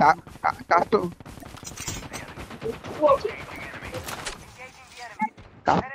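Bursts of gunfire from Call of Duty crack out in short volleys, several rapid shots clustered early and a few more later, with excited talk running over and between them.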